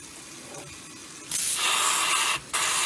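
Sea spray from a wave washes over a coxswain on a rescue watercraft, a loud broadband hiss that bursts in after a quieter rush, briefly drops out, then returns.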